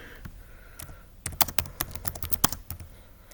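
Quick bursts of computer keyboard typing, close and crisp, a brief pause followed by a dense run of rapid keystrokes, with no speech.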